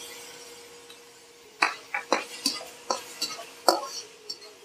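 Garlic is stir-fried in a pan for shepherd's pie, heard as a faint background sizzle broken by a series of sharp utensil clinks and scrapes against the pan, roughly a dozen irregular taps.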